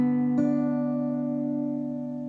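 Acoustic guitar strums a single G type chord once, and the notes ring out and sustain, slowly fading over about two seconds.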